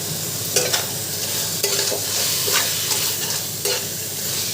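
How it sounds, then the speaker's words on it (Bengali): Greens and lentil badi are stirred in a frying pan over steady sizzling, with a spatula scraping and knocking in rhythmic strokes about once a second. "এবার বড়িটা দিয়ে ভালো করে একটু নেড়ে নিচ্ছি"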